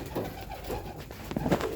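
Pigeons, adults with their young, coo close by, a few soft throaty calls repeating over a low background murmur.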